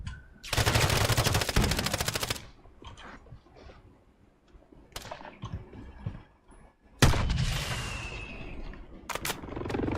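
Sniper team gunfire in a first-person shooter game: a long burst of rapid automatic shots, then scattered single cracks, and another loud volley with a trailing echo, close and sharp, with no talk over it.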